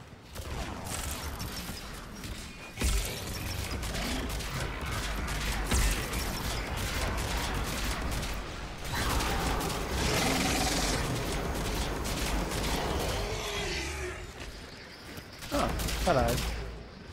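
Gunfire in the Mass Effect 3 multiplayer game, dense rapid bursts of shots and mechanical weapon noise running almost continuously, with a voice talking over parts of it.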